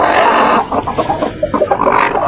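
A bulik hen, a mother hen of a gamefowl breeding line, clucks in a loud, close run of short repeated calls under steady background noise.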